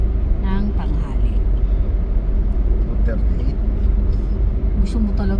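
Heavy road traffic rumbles steadily at EDSA Taft, a constant low engine drone with faint passing vehicles, while people talk over it inside a vehicle.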